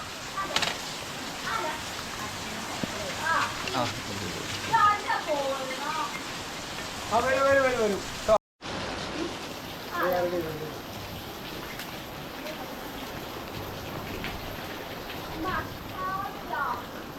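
Rain falls steadily outdoors near a Decathlon store in Kozhikode, a broad hiss running throughout under intermittent voices of people talking, with one brief dropout midway.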